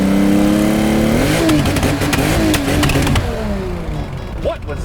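A custom 1987 Porsche 911 Targa drives under a bridge, its engine loud and close, revving up through rising tones and then easing off, with the sound echoing in the enclosed space.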